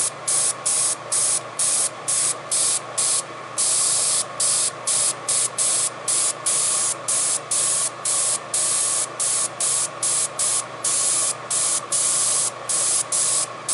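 An airbrush from a Timbertech combo kit sprays paint in a loud, steady hiss. The hiss stops and restarts in quick, regular bursts as the trigger is pressed and released.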